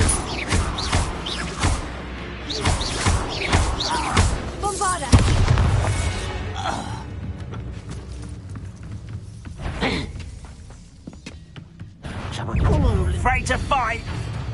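Bombarda blasting spell going off in Hogwarts Legacy, heavy booming blasts and crashes amid battle sounds and music, with voices speaking over parts of the fight.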